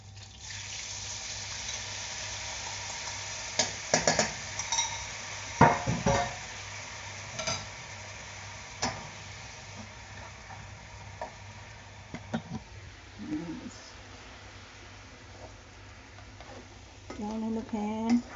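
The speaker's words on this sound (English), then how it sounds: "Just going to let that sizzle for a little bit." Rissoles frying in a pan with honey mustard sauce, a soft steady sizzle under occasional clinks and scrapes of a utensil stirring and turning them, close and fairly quiet.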